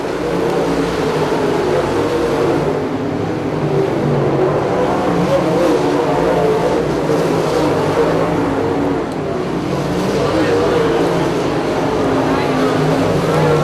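Dirt late model race car driving into turn 3 at a race, a loud continuous engine roar that swells and eases slightly, with a voice talking over it throughout.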